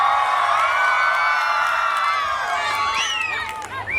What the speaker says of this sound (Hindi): एक बार जोरदार तालियां इन सभी बच्चों के लिए, जोरदार तालियां।